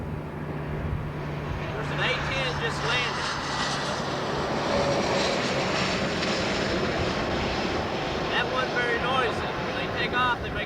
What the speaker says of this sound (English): Here comes another A-10 landing.